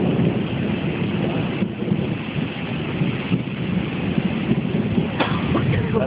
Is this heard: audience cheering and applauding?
no